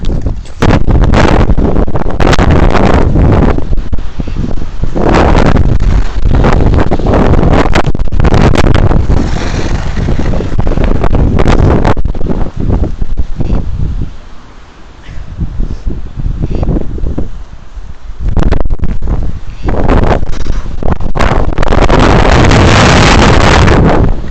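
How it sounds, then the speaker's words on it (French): Strong wind in a snowstorm at a ski area roars and buffets the microphone almost continuously, with loud gusts that ease briefly midway before building again. "C'est le vent!"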